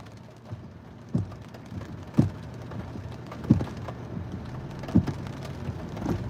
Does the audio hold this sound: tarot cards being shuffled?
no